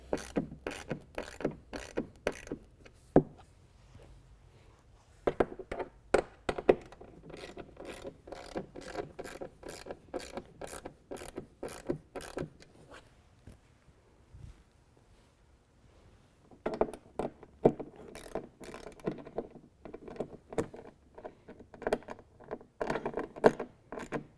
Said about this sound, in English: So we can use an 11mm and tighten down our elevator bolts.